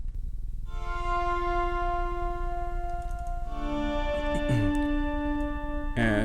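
Soft swelling tones from a sampled harp guitar fade in with no attack and hold as long sustained chords, shifting once midway, with a few brief plucked notes near the end.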